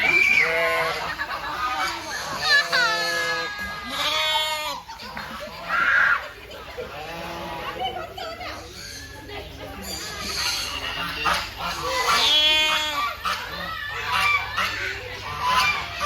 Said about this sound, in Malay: So, kat sini ada kambing.